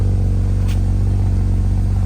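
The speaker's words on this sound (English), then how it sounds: "I'm gonna get you to hear the exhaust note." A car engine on a cold start idles with a steady, deep, smooth exhaust drone, loud and close, holding an even low rumble throughout with no revving.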